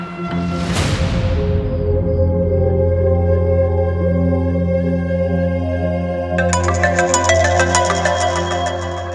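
A mobile phone ringtone plays a steady looping melody at close range, loud and continuous throughout, with a brighter, busier layer of tones joining near the end.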